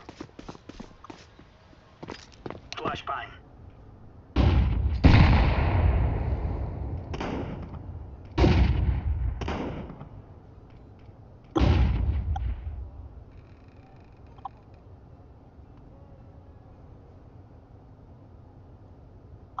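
Several heavy booming gunshots in the game Counter-Strike 2 at irregular intervals, each with a rolling decay, set against a quiet background with faint clicks earlier on.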